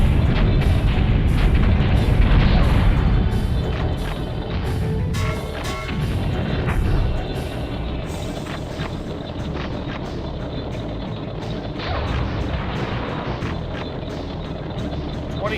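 Tanks blowing up in BattleTanx Global Assault on the Nintendo 64, heavy booms and rumbling explosions layered over engine drone and game effects, louder early on and settling into a lower steady roar.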